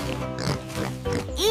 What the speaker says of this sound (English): For the piggies.